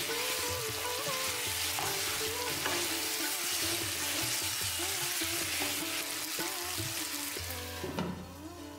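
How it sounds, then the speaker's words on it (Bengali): Marinated desi chicken sautéing with spices in a pan, a steady sizzle with occasional stirring scrapes under soft background music. "এ পর্যায়ে মশলার সাথে মাংসটাকে ভালোভাবে কষিয়ে নিতে হবে মোটামুটি 5 মিনিটের মতো"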